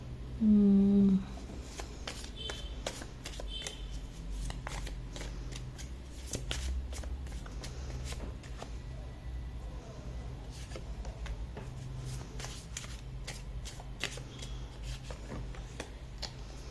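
Tarot cards shuffled by hand, a long run of crisp riffling flicks and soft taps, close and fairly quiet, with a brief tone near the start.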